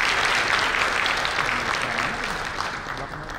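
A conference audience claps for Hana Bank staff at an economic outlook event: dense, steady applause that holds strong, then fades a little toward the end. No voices come through.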